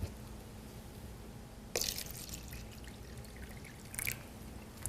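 Tap water poured into a cup with a tea bag, a steady quiet trickle broken by two brief louder splashes, no talking.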